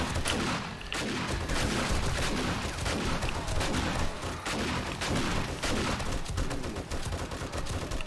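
Rapid, dense video game gunfire crackles continuously and loudly throughout, a sustained barrage of shots with booming undertones and no clear pauses.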